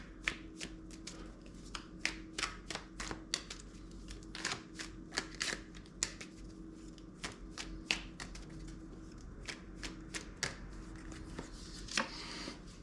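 Tarot cards are handled and drawn from a deck: a steady run of sharp, close papery snaps and flicks, many in quick succession over a quiet room background, with no talking.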